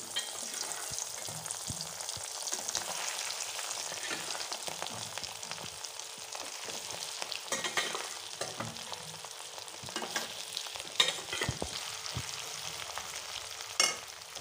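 Potatoes sizzle and fry in hot oil for dum aloo, a steady crackling hiss with scattered louder pops and occasional stirring, close and continuous without any talk.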